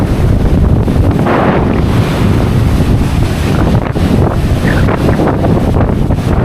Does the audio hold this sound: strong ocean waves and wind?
yes